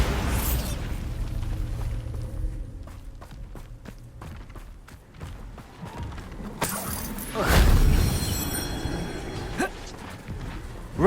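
Bombarda spell in Hogwarts Legacy: a deep, booming blast with a rumbling low-end swell, followed by crumbling, shattering debris, amid footsteps and game ambience.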